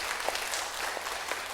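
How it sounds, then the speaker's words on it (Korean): Applause from a church congregation during a Sunday worship service, a brief burst of steady, dense clapping from many hands filling the room, with no talking over it. "큰 박수로 한번 더 감사의 마음 담습니다"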